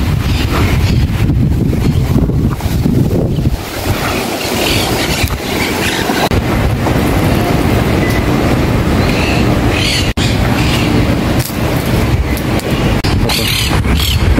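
Hot-day wind buffets the microphone in a loud, constant rumbling roar that covers the whole scene, with gusts swelling and easing under a dull background hum.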